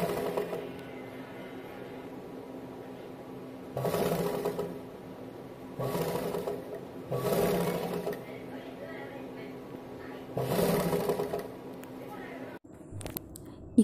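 A sewing machine stitches a double-folded seam on a chudidar, running in four steady bursts of rapid mechanical whirring between quieter pauses, with a low background hum throughout.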